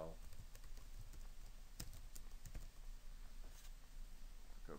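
Someone types a URL on a computer keyboard, a quick run of light key clicks at close range over faint background hiss.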